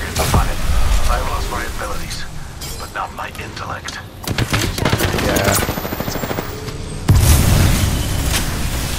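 Gunfire, booms and explosions in the video game Apex Legends, with bursts of automatic fire and a loud blast near the end, mixed with game voice lines.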